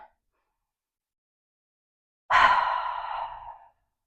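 A single long, audible exhale during a forward-holding stretch, a breathy sigh that starts abruptly, close and clear, then tapers off into silence after about a second.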